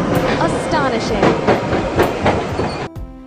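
A tram rumbles past close by with rhythmic clacking wheels and faint squeal, loud throughout, ending abruptly with a short tonal chime.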